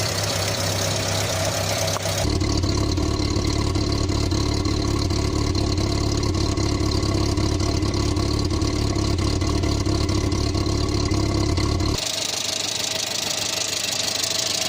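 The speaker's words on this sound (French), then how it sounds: "Bon bah écoutez, elle démarre." 1986 Renault Super 5 GTL with the 1.1 engine starts and settles into a steady, loud idle close by, a constant mechanical drone with a slight knock that runs for about ten seconds before cutting back.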